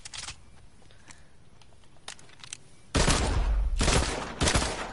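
Gunfire in a video game, with a few sharp scattered shots early on, then a loud sustained burst of rapid fire that dominates the second half.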